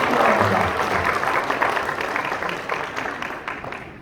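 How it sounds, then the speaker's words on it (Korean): A church assembly of a Presbyterian presbytery meeting applauds with a dense, sustained burst of many hands clapping that slowly tapers off over several seconds. "박수 한번 주시기"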